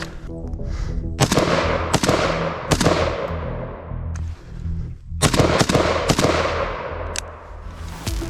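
Loud rifle shots fired through JMAC FRD and Lantac Dragon muzzle brakes crack out one at a time at an outdoor range, about seven sharp blasts, each followed by a long ringing decay, spaced roughly a second apart with a brief lull midway.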